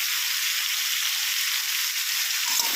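Bori and pumpkin with turmeric and salt fry in a pan, producing a loud, steady, close sizzle that carries on without a break while being stirred.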